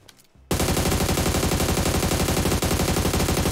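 Automatic gunfire in PUBG Mobile erupts suddenly after a brief quiet moment and continues as a loud, rapid, unbroken burst of shots with only a momentary dip.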